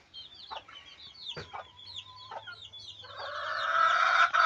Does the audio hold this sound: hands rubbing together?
no